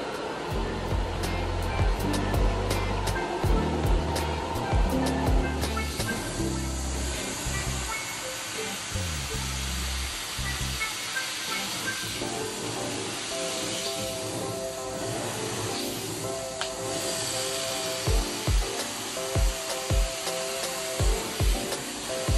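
A carpet steam cleaner runs continuously as it works over pet stains, a steady loud hiss and motor whine with repeated sucking and spraying surges and some rhythmic clunks, close and alone without voices.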